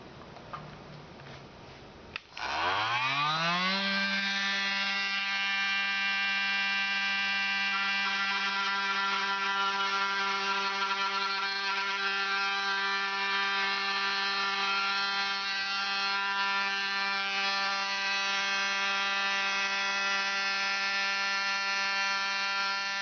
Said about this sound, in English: position the wood in the vise, get your multi-tool, put a wood cutting blade or a metal cutting blade